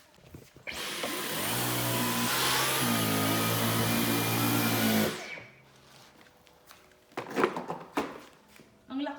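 A Dyson V15 cordless vacuum cleaner whirs loudly and close for about four seconds, its motor pitch rising then steadying before it shuts off, followed by people talking.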